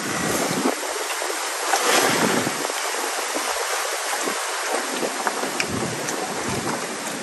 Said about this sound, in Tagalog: Pero hangin yan.